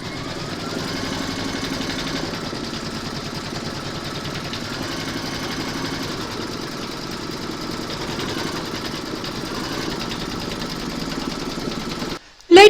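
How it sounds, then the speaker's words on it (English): An embroidery sewing machine stitches a quilting round, a steady close mechanical whirr with fast rhythmic needle chatter running unbroken, then cutting off abruptly at the end. "You're now going to stitch round number 3, and that's going to secure your fabric and then quilt it."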